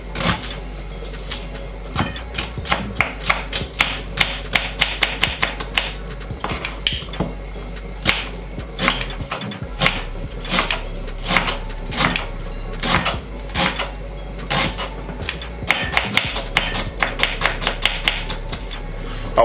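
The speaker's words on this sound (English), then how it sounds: "Get the onions chopped up." Onions being chopped on a cutting board while preparing a muscle-building meal, heard as a run of sharp, close knife strikes with an uneven rhythm and short pauses, alone without talk.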